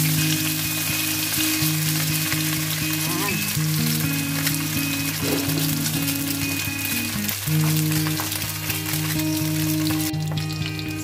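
Red snapper frying in a hot pan, a steady dense sizzle and crackle filling the whole stretch with constant loudness, with a faint tonal hum running beneath it.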